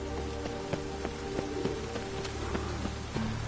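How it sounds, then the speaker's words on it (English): Rain falling in a video game, a soft steady patter of drops with scattered sharper drip ticks, faint and continuous throughout. "Looks like rain."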